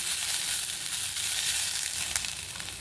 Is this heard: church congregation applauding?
no